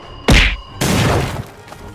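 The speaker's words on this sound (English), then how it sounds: "He smashed into the power control units!" A cartoon-style crash effect for a robot smashing into power control units in a Spider-Man comic dub: a sharp loud whack, then a broader crashing burst of impact noise that holds for about half a second and fades.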